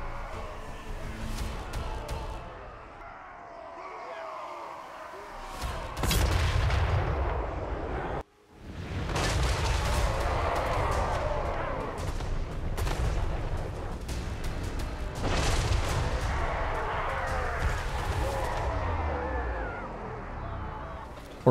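Dwarf gunpowder artillery firing in a Total War Warhammer 3 mod: repeated heavy booming blasts over a continuous roar of battle, loud and dense throughout with a brief gap partway through.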